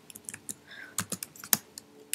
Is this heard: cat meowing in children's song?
no